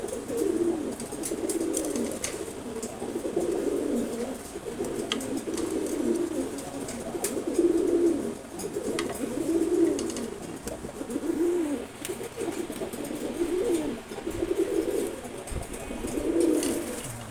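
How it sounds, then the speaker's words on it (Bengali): A pigeon coos steadily and close by, low throaty calls repeating about every second or two over a soft background hiss. "খুবই চঞ্চল একটা কবুতর।"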